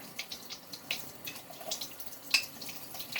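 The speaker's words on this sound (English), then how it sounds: "I'm now going to do it under running water." Tap water runs steadily over a coticle hone while a razor is being honed, with scattered splashes and drips over a soft continuous hiss, close and moderately quiet.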